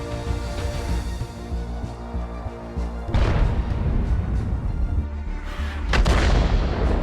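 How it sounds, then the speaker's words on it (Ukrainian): Artillery shells in a tank video game fire in two heavy booming bursts a few seconds apart, loud and close, over a steady rumbling engine and background game music. "вся надія зараз на Еміксіка, бо по ньому стрільнула тільки що артилерія"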